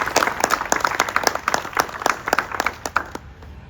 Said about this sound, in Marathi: त्यामुळे जोरदार टाळ्या होईल